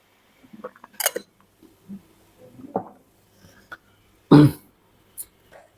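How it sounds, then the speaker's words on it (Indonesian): A person with a lingering cough, heard as a few brief throat-clearing coughs spread apart in a quiet room, with one sharper, louder cough near the end. "Saya masih batuk-batuk juga."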